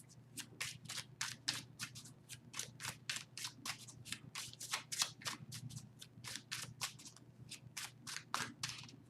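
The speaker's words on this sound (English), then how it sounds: "Let's just pull a few cards to kind of line up with the chakra energy" Tarot cards are shuffled and pulled by hand, giving a quick, continuous run of papery flicks and riffles, close but soft, with no voices.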